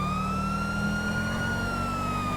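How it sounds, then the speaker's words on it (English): A police car siren in GTA V with the LSPDFR mod wails steadily and loudly, its rising tone sustained throughout over a low rumble of engine and traffic noise, with no talking. "turn on your lights, turn on your siren"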